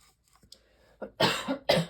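Two or three quick, harsh coughs close to the microphone, following a moment of near silence with faint small noises.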